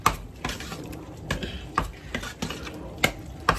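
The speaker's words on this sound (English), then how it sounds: "Give that a stir" A spoon stirs mince cooking in a pot for a dhal and rice stuffed pepper filling, giving a steady run of soft scraping knocks against the pan about every half second, close and fairly quiet.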